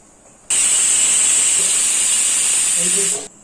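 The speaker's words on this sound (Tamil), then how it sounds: "ரெண்டு விசில் வந்துடுத்து" A loud, sharp steam whistle from a pressure cooker cooking dal bursts in, holds a piercing hiss for about three seconds, then cuts off abruptly.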